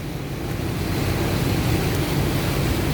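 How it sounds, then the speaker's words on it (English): A car drives slowly through a flooded parking lot during heavy rain in the South Carolina low country, giving a steady, continuous wash of churning water and rumbling road noise that stays close and even throughout, with no talking. "Right now I'm driving through water."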